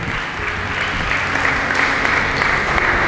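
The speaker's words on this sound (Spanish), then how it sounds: "Dale ese aplauso bien fuerte al Señor." A church congregation claps loudly and continuously, a dense, steady roar of applause that fills the whole short stretch with no pauses.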